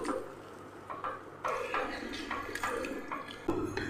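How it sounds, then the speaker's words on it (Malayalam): Milk poured into a pan and stirred for homemade dosa batter, with light clinks of a utensil against the pan and soft liquid sloshing, close by and no talking. "ഇനി നമ്മളെടുത്ത് വെച്ച 2-ാം പാൽ ഒഴിച്ചു കൊടുക്കും"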